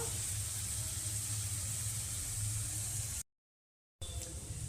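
Shrimp marinated in salt and turmeric frying in hot oil: a continuous bright, hissing sizzle that cuts out briefly near the end, then resumes.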